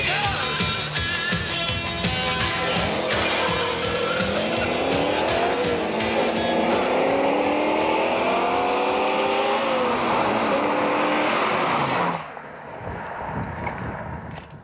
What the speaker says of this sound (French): Nous avons organisé une course contre une Porsche 944.